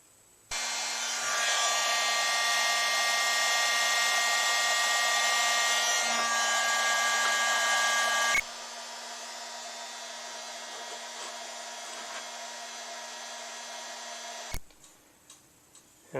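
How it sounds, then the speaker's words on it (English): A heat gun warms solder joints on a WS2811 addressable Christmas light string, a loud steady fan whine that starts abruptly, drops to a lower setting halfway, then clicks off. "And then we're ready for the heat gun."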